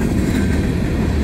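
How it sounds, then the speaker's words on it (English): A Norfolk Southern mixed freight train passes close by, filling the moment with a steady, loud, low rumble and rattle of rolling cars without pause. "this might be the last train"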